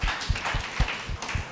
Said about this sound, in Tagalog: Palakpak po sa Panginoon sa mga no fear